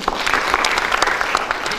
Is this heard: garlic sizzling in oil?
no